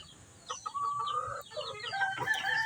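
A pure labuyo jungle fowl rooster clucks and calls in a run of short, near, fairly loud vocalizations, with a few rising squawks toward the end and no talk.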